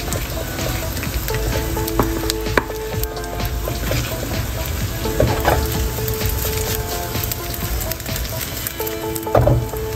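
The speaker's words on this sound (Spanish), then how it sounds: "Y removemos un poco sin miedo para que esta cuaje primero antes de cocerse del todo." Potato and egg tortilla cooks in a frying pan, a loud, dense sizzle running throughout while a utensil stirs and scrapes at intervals, close up with no voices.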